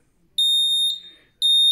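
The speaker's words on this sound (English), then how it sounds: "So it starts to beep louder and louder." A Xiaomi MiHome smoke sensor sounds its alarm indoors: two loud, piercing electronic beeps, each about half a second long, close by, with a short silent gap between them and a third beep starting at the end.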